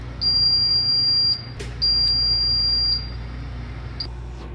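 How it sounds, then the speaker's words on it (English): A refrigerator alarm beeps in a home kitchen: high, thin electronic tones in long and short bursts, several times over, loud and close above a steady low appliance hum, with no one talking. "okay, sorry about the beeping."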